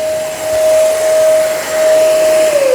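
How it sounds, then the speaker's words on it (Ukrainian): A vacuum cleaner runs with a steady, loud whine during home renovation work, then its pitch sags as it starts to wind down near the end. "Дуже хорошо пилососи."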